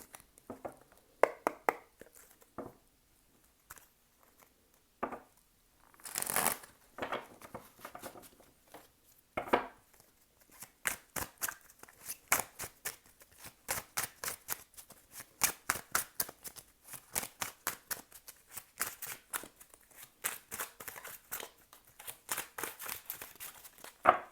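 Tarot cards are shuffled by hand in quick riffling bursts at first, then a long stretch of rapid, evenly spaced card flicks, crisp and close with no talking.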